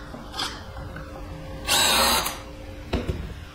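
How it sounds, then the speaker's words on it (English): A power drill bores index holes in a wooden cribbage board, a single close, loud burst of whirring between quieter workshop hum and light clicks. "what we're gonna do is drill our index."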